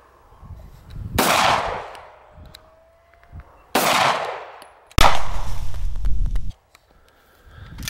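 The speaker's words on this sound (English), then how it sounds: "Number of shots it takes to hit the can at 50 yards." Three loud gunshots fired at a can 50 yards away outdoors, each sharp crack ringing out with a decaying echo, spaced a couple of seconds apart, the last followed by a sustained rumble.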